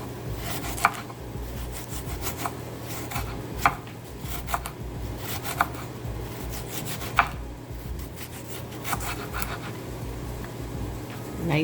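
A knife slices half a red onion thinly on a cutting board, giving regular crisp chops about one to two seconds apart over a low steady hum, fairly close and moderately loud.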